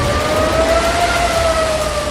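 Air raid sirens wail steadily over an Israeli city during an Iranian ballistic missile attack, two sustained rising-and-falling tones that are loud and continuous with no speech.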